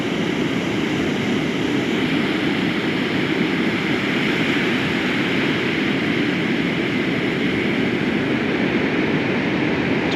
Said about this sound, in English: Waves are really nice right there.